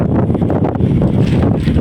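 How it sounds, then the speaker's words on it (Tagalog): Strong wind gusting beside a river, a steady low rumbling buffet across the microphone with no pauses, loud and close throughout. "Lakas ng hangin guys"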